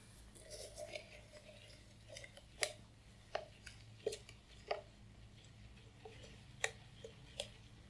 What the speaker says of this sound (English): One thing I have to do is stir it.